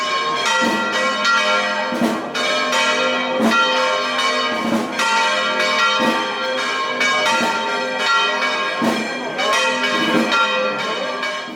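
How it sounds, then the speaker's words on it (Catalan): Church bells peal continuously, several bells swinging and ringing in overlapping strokes, loud and full, with no voices. "eixia del temple amb el so del volteig de campanes"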